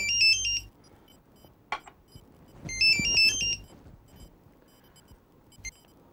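An incoming-call ringtone plays twice as a short melodic burst, close and clear, with quiet gaps and faint soft room noises between the rings, no speech.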